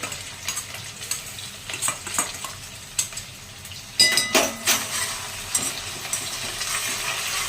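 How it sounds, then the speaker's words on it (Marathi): Ground masala is tipped onto onion and vegetables frying in a pan for Bhogi bhaji, then stirred: a gentle sizzle under repeated scraping and clinking of a spoon against the pan, with a louder burst of stirring midway and no talk. "आणि त्यात मसाला टाकते जो आपण वाटला होता तो."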